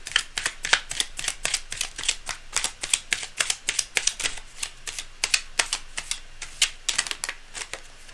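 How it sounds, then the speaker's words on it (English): Tarot cards shuffled by hand in a steady run of crisp, rapid riffling snaps, close and distinct, continuing for several seconds with no talk over them. "You know what? I need more shuffles."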